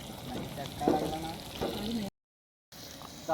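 Chicken kaul fry sizzling in a pan with stirring scrapes, a steady close frying hiss cut by a brief silent gap near the end.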